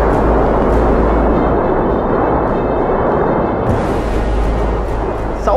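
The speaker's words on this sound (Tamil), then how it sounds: "எரிமலை வெடிக்கும் போது சப்தம் வரும் அப்படின்னு சொன்னேன், எப்படி சப்தம் வரும் அப்படிங்கிறதுக்கான ஒரு சின்ன எக்ஸாம்பிள்" A volcanic eruption roars as a loud, continuous, dense rumble with deep booming texture, steady throughout with a slight hiss rising in the last seconds.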